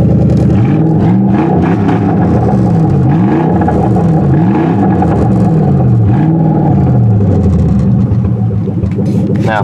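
A junked Lincoln Continental engine runs steadily and loudly up close, idling with rising and falling revs and a rough mechanical clatter throughout.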